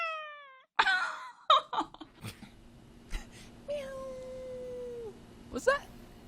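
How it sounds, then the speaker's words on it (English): A cat meows with a drawn-out, cartoonish call at the start, then a few fainter meow-like tones follow amid voices talking and bursts of noise. "Was that a real meow?"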